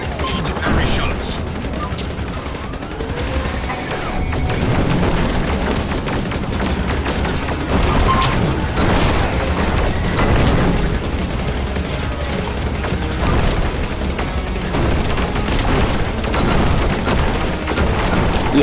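Dense, continuous gunfire in the flight combat game Rogue Flight, loud rapid shots packed over a busy mechanical and music-filled game mix, with a voice talking in places.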